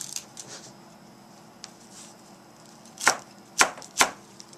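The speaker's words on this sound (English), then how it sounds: "I chop cilantro now." Fresh cilantro chopped with a knife on a cutting board for Tibetan beef with radish, three sharp close knife strikes near the end after a quiet stretch with faint background noise.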